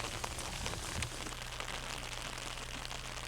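Steady rain falls on an outdoor disc golf course during a tournament final round, a dense, even hiss of drops on surfaces that holds constant from start to finish, with no voices.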